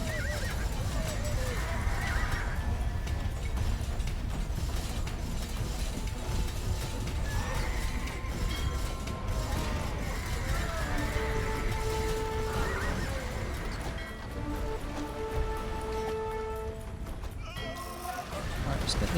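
Horses in a real-time strategy battle from an Alexander the Great campaign whinny and neigh repeatedly over a thick wash of hooves and combat noise, while a player talks throughout.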